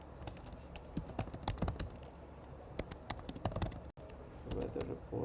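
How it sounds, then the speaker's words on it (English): Close-up typing on a computer keyboard: quick irregular clicks and clacks of keys at a steady working pace, with a brief pause partway through. "So the reason I'm typing all this out"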